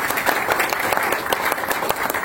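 Audience at an inauguration of an all-India audit and accounts pensioners association clapping together in a steady, dense burst of applause that fills the hall without a break.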